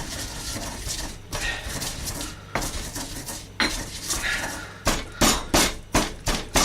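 Three garlic cloves mashed and ground with salt, heard as close, repeated knocking and grinding strikes in a bowl, a steady rhythm that turns into a run of louder, evenly spaced thumps near the end, with no talk.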